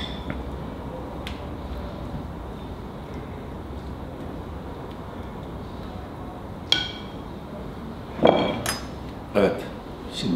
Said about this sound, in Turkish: Semizotumuzu tabağımıza koyalım.